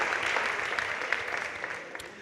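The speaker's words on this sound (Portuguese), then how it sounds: "Vamos bater palmas para o nosso bom Deus" A church congregation claps together at a worship service, a dense, steady wash of applause from many hands that holds fairly even and then eases slightly, heard at a moderate distance.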